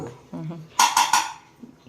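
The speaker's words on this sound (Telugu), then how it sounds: "గిన్నె పెట్టుకొని" A cooking pot is set down on a stove with three quick, ringing metallic clanks in close succession, following a brief murmur of voice.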